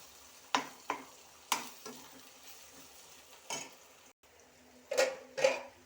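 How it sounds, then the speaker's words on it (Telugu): A spoon scrapes and clinks against a pan in several separate strokes, stirring frying paste for egg dum biryani so it doesn't stick, while a quiet sizzle of frying continues underneath. "ఇలా అడుగంటకుండా తిప్పాలండి"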